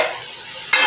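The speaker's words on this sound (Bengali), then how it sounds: "সবজিগুলোকে ভাজছি।" Vegetables fry in a pan, a close continuous sizzle that jumps suddenly louder and brighter near the end as more hits the hot oil.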